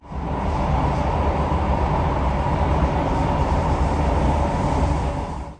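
A loud, steady rumble and rattle of a train in motion, dense and continuous from start to finish, heard from inside the carriage.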